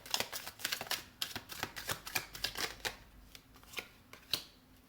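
Tarot cards being shuffled by hand, a run of quick crisp riffles and flicks with uneven rhythm, close and fairly quiet, with no talking.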